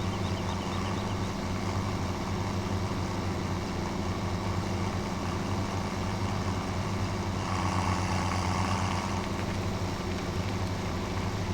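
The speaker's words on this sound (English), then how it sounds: "The engine sounds, I do love the engine sounds." Tractor engine in the video game Farming Simulator 17, a steady low droning hum that runs continuously at even loudness throughout, alone with no talk.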